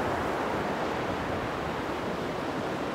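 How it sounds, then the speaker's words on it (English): Steady, broad rush of ocean surf with no pauses, waves washing continuously and fairly loud, no voices present. "the sounds of the waves"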